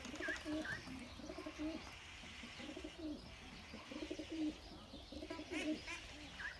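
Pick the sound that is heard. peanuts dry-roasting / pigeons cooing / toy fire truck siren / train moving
pigeons cooing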